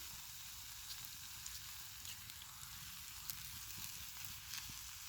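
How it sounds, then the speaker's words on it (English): Meat fries in a pot for goulash, giving a low, continuous sizzle and crackle with scattered small pops, heard up close at a quiet level and without talk. "fry it a bit with that"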